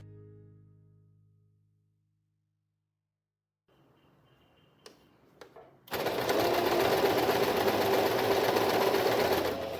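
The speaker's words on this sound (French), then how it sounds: "ensuite venir coudre ta ceinture au niveau de la taille" A sewing machine runs steadily and loud, stitching a waistband onto trousers after a near-silent lead-in with a few faint clicks and a brief fading tone at the start.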